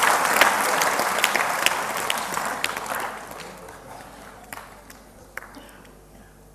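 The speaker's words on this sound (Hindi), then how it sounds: "एक बार अपने लिए जोरदार ताली बजाइए।" A large auditorium audience at a spiritual discourse in Siri Fort Auditorium breaks into loud, dense clapping that gradually thins and fades over several seconds, with a few scattered claps at the end.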